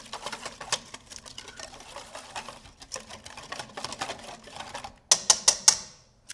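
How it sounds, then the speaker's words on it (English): Metal whisk rattling rapidly against a bowl while mustard sauce and hot sauce are mixed, a busy close-up clatter that ends in a few sharp louder taps. "Our mustard sauce. And our hot sauce. We'll give these a whisk."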